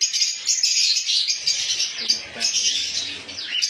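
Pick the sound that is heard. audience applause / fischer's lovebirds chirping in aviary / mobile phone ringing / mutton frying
fischer's lovebirds chirping in aviary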